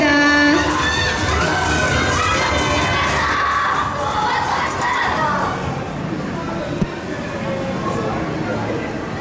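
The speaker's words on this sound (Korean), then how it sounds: "여러분들 너무 많이 응원해주시고 함성 외쳐주셔서 분위기가 후끈 달아오른 것 같습니다" A large crowd of fans cheers, shouts and screams continuously at a live Demon Slayer (Kimetsu no Yaiba) fan event stage, loud and dense at first and easing slightly toward the end.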